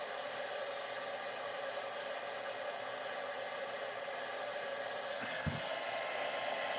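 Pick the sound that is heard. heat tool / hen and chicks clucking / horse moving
heat tool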